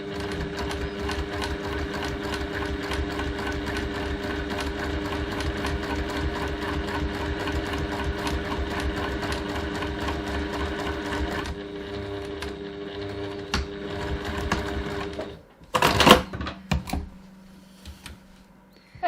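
A sewing machine stitches fabric in a fast, steady run of needle clatter for about fifteen seconds, then stops, followed by a few handling clunks and rustles close by.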